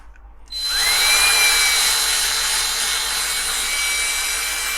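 A power tool grinds through the rivet heads on a Corgi 268 Green Hornet Black Beauty toy car, starting after a short quiet moment and then holding a loud, steady, high whine with a rising tone for several seconds.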